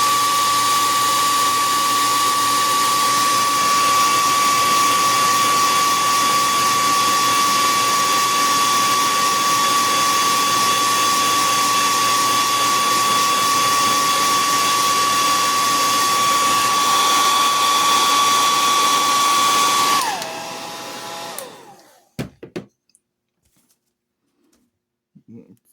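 A hair dryer blows a steady, loud whine while drying paint on a twisted Santa figure, running continuously before switching off and spinning down, followed by a few small handling knocks.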